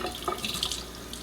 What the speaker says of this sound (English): go ahead and dampen it under some running water and get it nice and soaked with water